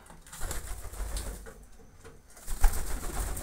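Pigeons on the ground coo softly and repeatedly, close by, with light rustling and a brief flutter among them.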